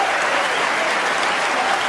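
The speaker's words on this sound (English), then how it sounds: "I think she deserves a round of applause for that" Snooker match audience at a World Championship final breaking into steady, dense applause, a continuous wash of many hands clapping at close range with no pauses.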